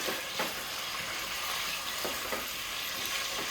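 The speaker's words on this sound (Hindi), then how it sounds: "चिकन डालने के बाद आप इसको थोड़ा सा फ्राई करें।" Chicken fries in a pan for Awadhi korma with a dense, continuous sizzle and a few soft stirring scrapes. It is close and loud throughout, with no voices.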